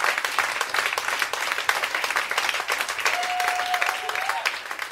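Dense audience applause and clapping fills the whole stretch, steady and loud, with crowd noise mixed in and a brief whistle-like tone near the end.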